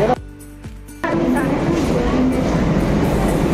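A Mumbai AC local train rumbles into a crowded platform loudly after a brief pause, a dense steady roar of wheels and motors filling the air up close.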